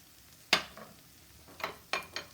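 Canned beans and corn cooking in a pan, with a sharp utensil clatter followed by a few softer stirring scrapes and a faint sizzle, close by with no talking.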